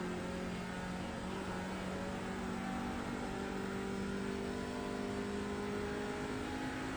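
Audi TCR race car in iRacing at the Nürburgring, engine held at full throttle in a steady, loud, droning roar that climbs slightly in pitch, with no voices over it.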